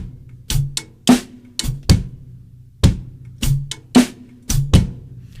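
Drum kit groove in a rim-click style, with punchy bass drum thumps, sharp snare hits and crisp rim clicks in a steady, sparse rhythm, close and clear with no talking.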